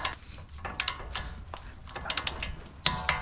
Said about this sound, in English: So torque it to 60 foot-pound.